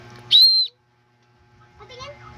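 A toy whistle gives one shrill, loud toot lasting about a third of a second, then silence before faint voices and soft handling sounds come in.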